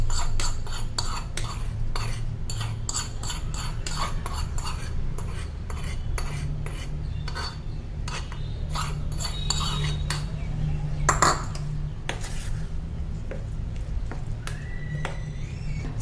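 A spoon stirring cooled tempering into fenugreek (menthya) chutney, giving a long run of quick metallic clinks and scrapes against the vessel over a steady low hum.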